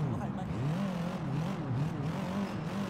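A car engine in Sleeping Dogs: Definitive Edition drones steadily, its pitch wavering up and down as the motor revs, with no talking over it.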